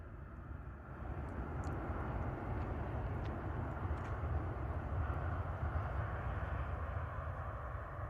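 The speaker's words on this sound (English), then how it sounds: "No right or left bank maybe for these guys at all on the climb out to altitude this evening." A jet airliner climbing straight out after takeoff from Bristol Airport in the evening, a steady, fairly distant broadband engine roar holding constant throughout, with no speech.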